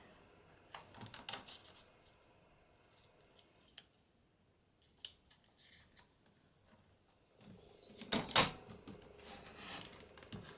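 Paper being cut to size for a journal cover, heard as faint, close scattered snips, taps and rustles spread irregularly over ten seconds, with a sharper burst of crisp cutting or rustling near the end.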